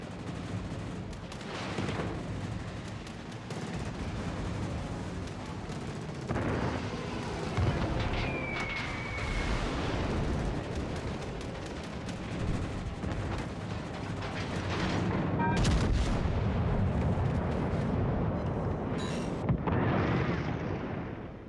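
Naval battle in World of Warships Legends, ships trading gunfire, with a dense continuous roar of distant cannon blasts and explosions layered over a steady rumbling background.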